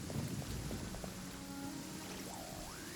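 Steady rainfall in the Genshin Impact video game, a dense, even hiss of falling drops that holds at constant loudness throughout, with a faint low tone and a rising synthetic chime drifting through near the end.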